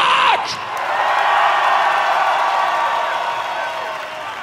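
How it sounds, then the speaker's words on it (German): A big Wacken 2019 festival crowd cheers loudly for Trailerpark, with a dense, sustained wash of whoops, yells and clapping that holds steady and slowly eases off. "Ich hätte gerne einen fetten Applaus für Trailer Park."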